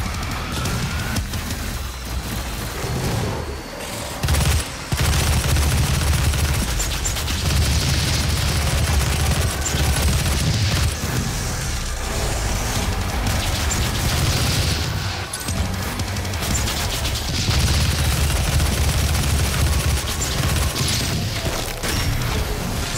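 Loud, sustained gunfire and booming blasts from the first-person shooter DOOM during a boss fight, dense bursts that keep going almost without pause, with brief dips before resuming.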